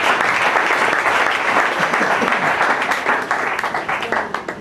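A church congregation claps together in a dense, loud burst of applause that stays steady, then thins into scattered separate claps as it fades.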